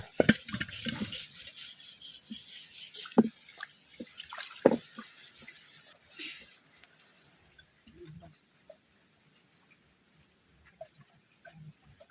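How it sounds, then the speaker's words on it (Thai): Vegetables are washed by hand in water outdoors at a field hut, with irregular splashes, drips and sloshes that are louder at first and then thin out into sparse drips. "ตอนนี้ก็เรียบร้อยเฮาล้างพืชผักของเฮา"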